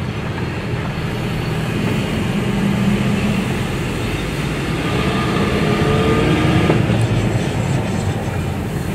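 A lifted 1995 Toyota Tacoma with a small four-cylinder engine drives along, giving a steady, loud cabin rumble of engine and road noise that holds evenly throughout, with no talking.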